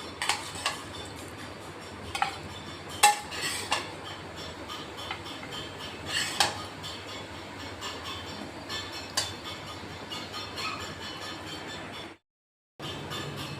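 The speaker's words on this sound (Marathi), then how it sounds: "हे बघा पोहे आपले तयार आहेत. आता आपण प्लेटमध्ये काढून घेतोय." Cooked poha is served from a pan onto a plate, with a spoon scraping and clinking against metal in soft, irregular knocks over a low background hum.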